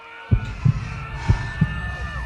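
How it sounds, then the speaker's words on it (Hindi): A pounding heartbeat sound effect in an animated horror story throbs in four heavy, evenly spaced double thumps over a low sustained hum, loud and without talk. "मेरा दिल जोर से मेरे सीने में धड़कने लगा"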